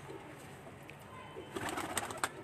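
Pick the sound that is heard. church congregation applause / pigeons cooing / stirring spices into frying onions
pigeons cooing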